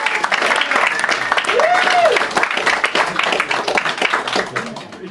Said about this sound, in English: Everybody give her a round of applause.